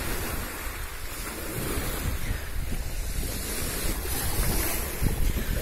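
Sea waves wash in at full high tide beside a yacht club, a continuous surging rush mixed with heavy wind buffeting the microphone, close and fairly loud with no talk.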